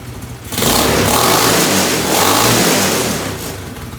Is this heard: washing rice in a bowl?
no